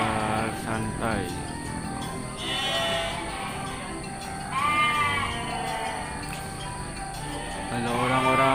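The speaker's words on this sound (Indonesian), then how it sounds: "di sini banyak domba lagi tuh" Sheep bleat repeatedly at a crowded livestock market, several animals calling near and far in overlapping wavering cries, with a steady hum of background chatter from people around them.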